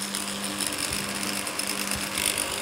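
A small power tool buffs and polishes the wood of a miniature juniper bonsai, giving a continuous close mechanical whir with a faint rattling texture and no voices.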